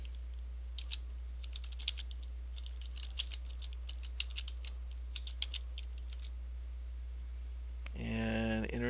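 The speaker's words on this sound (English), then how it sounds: "Now I'm going to type in show protocols." Irregular clicks of typing on a computer keyboard while entering commands into a Cisco router simulator, close and fairly faint over a steady low hum, ending with a brief tonal chime.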